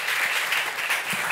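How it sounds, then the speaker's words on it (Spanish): A studio audience on a Spanish talk show applauding, a dense, even wash of claps that holds steady for a moment without any talking. "Venga, venga, un aplauso."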